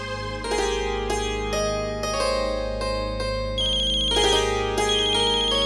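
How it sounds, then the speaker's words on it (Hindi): A mobile phone ringtone plays a bright, repeating melodic tune at steady volume for several seconds, with no talk over it. "लो, आ गया तुम्हारी तमन्ना का फोन।"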